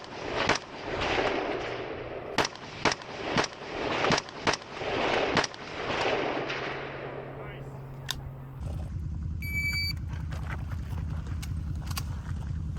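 Open pistol shots ring out at a falling steel stage in a multigun match, several sharp cracks in quick uneven bursts, then quieter distant shots and metallic pings over a steady low rumble.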